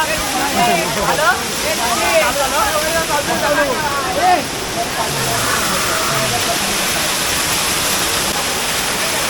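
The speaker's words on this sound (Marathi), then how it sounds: "हा एक धबधबा आहे" A continuous roaring rush of a waterfall in Navale village, Sindhudurg, fills the scene, steady and loud, while voices talk over it in the first half.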